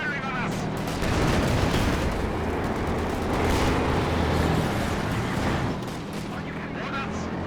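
Werfer rocket artillery salvos in the real-time strategy game Company of Heroes 2, with continuous booming blasts and rumbling explosions alongside battlefield gunfire, loud and dense, under a commentator's talk.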